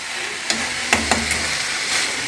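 A vegetable curry is stirred in a pan, a steady sizzle under a few soft scraping knocks of the spoon, close and moderately loud, with no speech.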